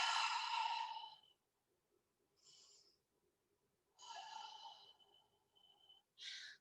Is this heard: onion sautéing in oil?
no